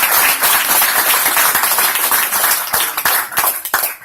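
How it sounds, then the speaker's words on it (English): Audience at a local speaker-series talk on tax cuts breaks into steady applause, dense overlapping claps close and loud, tapering slightly near the end. "Let's give them a round of applause."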